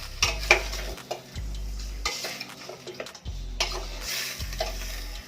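A spoon stirs chicken with tomatoes in a pot over the heat, scraping and clinking in steady repeated strokes beneath a soft sizzle, close up, with no talk.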